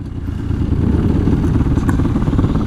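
A motorcycle doing a wheelie on a slow road and walking trail roars with a loud, steady, close engine drone that holds without a break.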